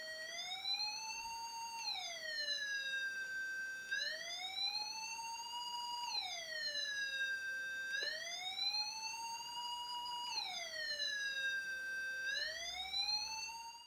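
An electronic ambulance-style siren, made with a Micro:bit square-wave generator charging and discharging a capacitor, sweeps up and down in pitch in regular cycles about every two seconds, a clear, fairly faint tone heard alone.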